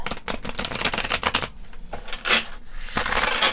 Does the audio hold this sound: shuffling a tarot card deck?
yes